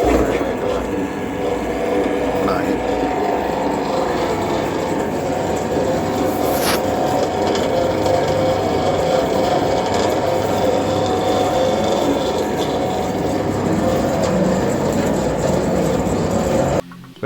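A portable concrete mixer's drum turns steadily, a continuous broadband mechanical rumble with grinding, rasping texture, loud and close, holding level throughout before stopping abruptly at the end.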